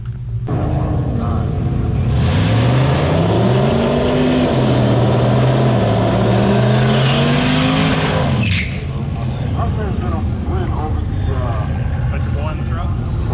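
A pickup truck with a 5.3 V8 makes a drag racing pass, its engine roaring loud and continuous for several seconds with rising gear-change pitch sweeps, then cutting back to a lower idle-like rumble as voices carry over the noise.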